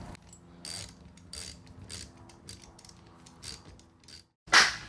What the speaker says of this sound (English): We'll take the bolt, replace the bolt, make sure that it is replaced firmly.